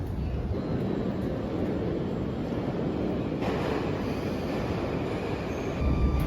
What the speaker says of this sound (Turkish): Meşhur Moskova metrosu.